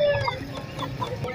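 BK broiler chicks at the Sumpiuh market give a few quick, close peeps and soft clucks in short bursts over a low background murmur.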